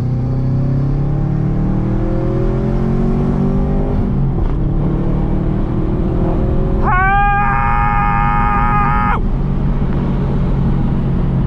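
A Subaru WRX accelerates through a corner, its engine note climbing steadily under load, then a sharp, bright whine for a couple of seconds over the continuous drone of the car, heard from inside the cabin.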